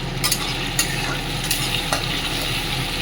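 Prawns frying in a pan for a Bengali prawn and banana flower dish give a steady, close sizzle with a few sharp crackles and stirring scrapes, and no talk.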